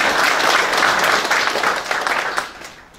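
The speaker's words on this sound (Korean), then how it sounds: "화환을 보내주신, 또 학원에 보내주신 분들께 큰 박수 부탁드리겠습니다" Audience applause at a Korean peace ambassadors' council gathering, a dense steady wash of many hands clapping at full strength before thinning and fading toward the end.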